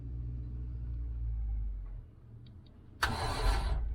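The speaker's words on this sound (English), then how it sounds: "Right, so the starter's turning" A 1989 Range Rover Vogue SE sits with a low engine rumble before a burst of starter motor cranking kicks in near the end, loud and close, with no talk.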